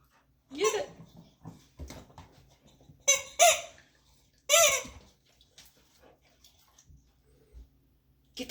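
A boxer dog chews a squeaky toy chicken, making a few sharp, loud squeaks in separate bursts while a person talks in between.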